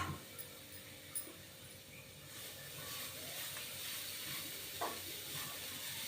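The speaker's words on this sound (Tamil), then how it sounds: "அந்த தேங்காயை சேர்த்து லைட்டாக நம்ம வந்து இப்படியே வதக்கி விட்டுடலாம்" Grated coconut sautéed lightly in a kadai gives a soft, steady sizzle with faint scraping of stirring, quiet and close throughout, with no talk.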